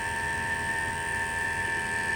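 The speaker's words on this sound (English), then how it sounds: "But the Navac vacuum pump, 8 CFM, really nice," A Navac 8 CFM vacuum pump runs steadily on an old leaking split system, giving off a constant even mechanical hum with a faint rapid ticking beneath it and no other sounds.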